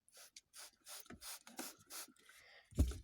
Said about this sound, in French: Je prends la microfibre et je frotte.